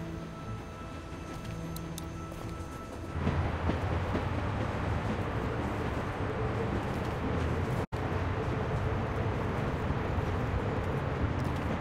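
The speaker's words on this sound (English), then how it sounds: "We need to stop this train." Steady rumbling train noise from a video game, The Walking Dead, with continuous rattling, growing louder and denser partway through, with a brief dropout near the end.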